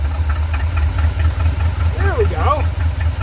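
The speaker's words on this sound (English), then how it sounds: "let's turn the idling up a little bit." A Ford engine idles steadily after its idle speed has been raised, a constant low pulsing rumble close by, with a few brief squeaky chirps over it partway through.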